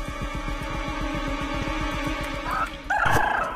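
Clucking and gobbling fowl calls from the chicken in the horror game Evil Nun 2, a steady rapid pulsing run of bird noise that swells louder near the end, heard alone with no talk.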